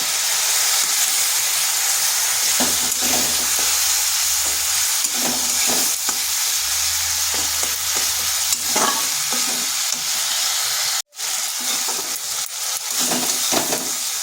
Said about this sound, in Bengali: এরপর মশলাটা একটু কষে নেব।